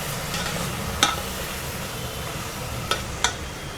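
Ginger garlic paste sautéing in a pan for tomato rice gives a steady, close sizzle, with a few sharp spatula clicks against the pan.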